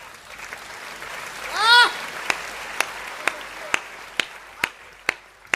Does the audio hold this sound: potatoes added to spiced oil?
no